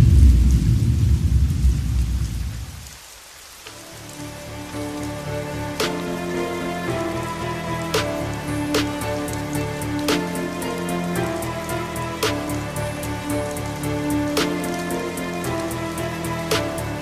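Heavy rain pours steadily at first, then after a brief dip gives way to a sustained music-like tonal texture with regular sharp accents; the downpour is loud and close, with no talking heard.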